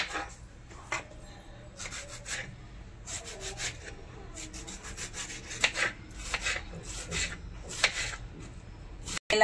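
Potato and cauliflower being cut with a knife, a series of close, crisp rubbing and slicing strokes in irregular bursts, with a sharp knock at the end.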